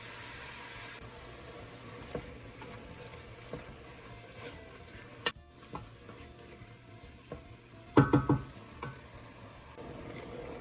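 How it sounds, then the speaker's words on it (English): Ground beef and minced onion fry in a pan for lasagna, a quiet steady sizzle with occasional stirring scrapes and clatters, louder spoon knocks near the end. "So I'm just going to fry this up and scramble it until the meat's cooked"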